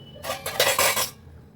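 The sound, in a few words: kadai pan placed on the stove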